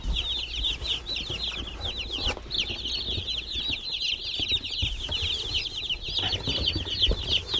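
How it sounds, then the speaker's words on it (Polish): A dense, continuous chorus of high peeps from a large flock of broiler chicks. It stays steady throughout with a low background rumble and no talking. "Mamy kurczaki."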